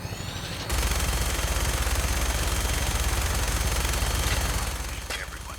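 Sustained automatic gunfire in Fallout 4, a dense continuous stream of rapid shots starting abruptly and holding loud and near for several seconds before tapering off.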